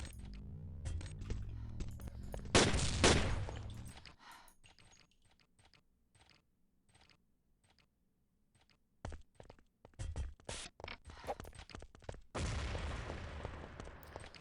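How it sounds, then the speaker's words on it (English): Grenade blasts and gunfire in a competitive tactical shooter match, with a burst of loud booming explosions early, a quiet stretch, then a late flurry of sharp shots and a heavy blast, all fairly close. "Synchronous nades."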